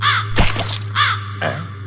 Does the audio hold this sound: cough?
no